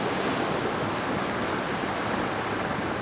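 Rushing creek water at an offroad creek crossing in the Australian mountains, a steady, close hiss of flowing water with no voices.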